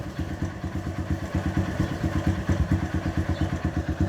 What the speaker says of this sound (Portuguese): Tuchozinho representa barulho no motor.